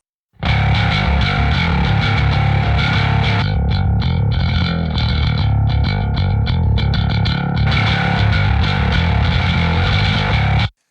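A clean, steady bass guitar line with the distortion pedal switched off plays continuously and loudly on its own, with sustained notes and a brief lighter, choppier passage in the middle.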